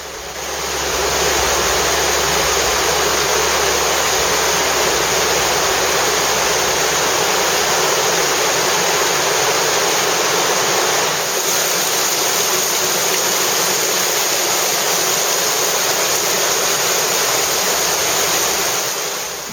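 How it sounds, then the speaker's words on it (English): Water rushing in an underground limestone cave stream near a waterfall, a loud, constant roaring wash that stays unbroken throughout without voices. "The main bulk of the stream flows out of an impassable sump, but a smaller stream is then followed to a waterfall"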